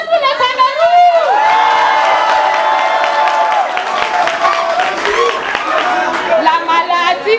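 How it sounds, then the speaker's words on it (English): Crowd applause and cheering fill a science slam hall, sustained and loud for several seconds as many hands clap and voices call out together. "Applaudissez pour le Cameroun."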